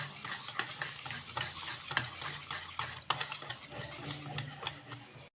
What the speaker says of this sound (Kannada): ಇದನ್ನು ನಾನು ಚೆನ್ನಾಗಿ ನೀಟಾಗಿ ಕಲಸಿ ತೊಗೋತೀನಿ